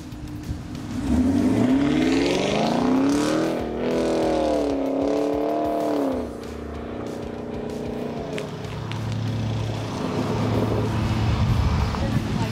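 Cars roar as they accelerate in a Dodge versus Chevy challenge, engine pitch sweeping up and down through gear changes, then a steadier rumble as they move off, with voices faintly underneath.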